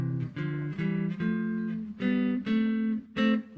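Electric guitar played through a harmonizer pedal that adds a third above each note, a melodic run of about eight separate sustained harmonized notes, clean and alone.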